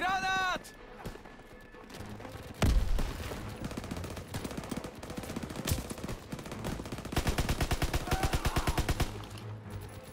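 Gunfire in the WWII shooter Call of Duty: WWII, including a shotgun blast, with a loud single shot early, then rapid bursts and repeated shots, under excited talk from players.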